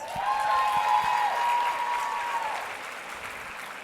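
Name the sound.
audience round of applause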